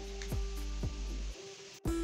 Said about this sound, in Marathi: आता कढईमध्ये तेल गरम झालेलं आहे आणि आता आपण हे 65 तळून घेऊया